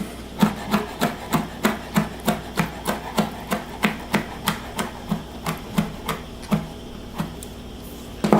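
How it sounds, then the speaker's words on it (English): A knife chops sun-dried tomatoes finely on a cutting board, a rapid steady run of about twenty sharp close taps that slows slightly near the end, with no speech. "For the sun-dried tomatoes, you're going to chop them up fine,"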